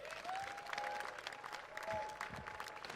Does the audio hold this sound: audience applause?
yes